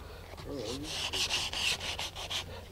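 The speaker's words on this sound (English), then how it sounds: "if you want to sand these at this point, this is the time to sand them" Small wooden pieces for a Rogallo wing glider are rubbed with fine sandpaper in a quick series of close, soft rasping strokes, with a faint voice briefly audible underneath.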